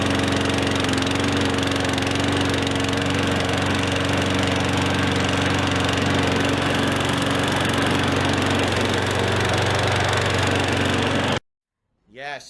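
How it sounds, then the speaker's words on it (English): Steady engine drone of a John Deere Z-Track 900 zero-turn lawn mower, running evenly and fairly loud without pause for about eleven seconds before cutting off abruptly. "34 models of hard-working zero-turn mowers to give you all the options you need"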